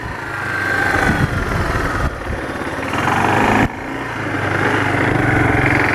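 A Kawasaki KLF300 ATV engine runs steadily in second gear, a loud, continuous droning rumble close by that surges slightly and drops briefly partway through before carrying on.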